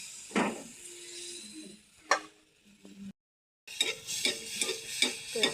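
Palm-fruit batter fritters fry in oil with soft sizzling and a few sharp stirring or ladle clicks against the pan, faint and close, with a brief quiet gap midway.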